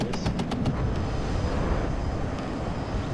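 Jet strike aircraft roaring low overhead in the WARNO war game, a loud, steady, broad engine rush with a few sharp clicks at the start.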